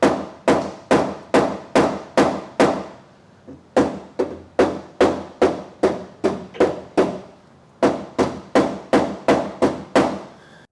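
A blending hammer taps down the raised crown of a deeply smashed car fender during paintless dent repair, making three bursts of quick, evenly spaced sharp knocks, each run of about six to eight strikes separated by short pauses.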